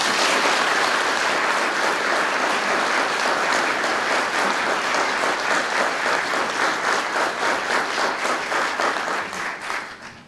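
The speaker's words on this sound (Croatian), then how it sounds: "molimo da ih pozdravimo jednim velikim aplauzom" A large graduation audience at a faculty of electrical engineering, computing and information technology claps loudly and steadily for the new graduates, a dense ovation that holds for about ten seconds before tapering off.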